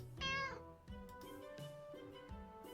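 A cat meows once, loud and close, in a romance visual-novel game, with soft game music playing underneath and continuing after the call fades.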